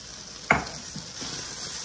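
Ground turkey in sauce sizzling in a pan, a soft steady frying hiss with a sharp scrape of stirring near the start and a few quieter stirring sounds after.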